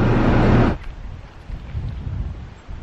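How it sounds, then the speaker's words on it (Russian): Strong stormy wind gusting at a lake shore in autumn, a loud buffeting roar that drops after the first moment into a steadier, lower rushing with uneven gusts throughout. "Ветер какой-то штормовой. Просто безумно штормовой."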